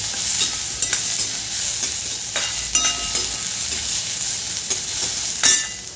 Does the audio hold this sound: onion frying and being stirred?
yes